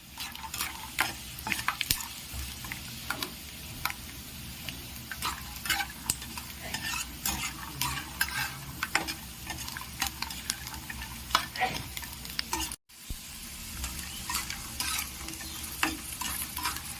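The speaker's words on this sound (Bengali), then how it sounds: "লাল লাল করে ভেজে নেব" Peanuts fry in a pan while being stirred until they redden, producing a steady sizzle punctuated by frequent scraping clicks and rattles, briefly cut off before resuming.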